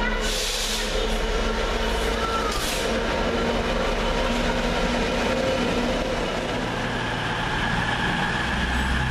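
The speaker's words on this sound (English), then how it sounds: "Just now departing the 1743 cross-country service from Newcastle to Southampton Central, 220010." A Class 220 cross-country passenger train pulls out of Oxford station on the 17:43 Newcastle to Southampton Central service, with a steady, fairly close rumble of engine and wheels and a brief hiss early on.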